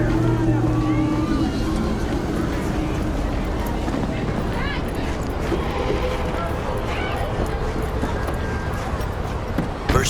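A factory-new car drives in the video game Cyberpunk 2077, with a loud continuous engine rumble and road noise throughout, overlaid by people talking.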